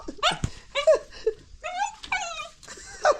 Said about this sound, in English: this dog will be big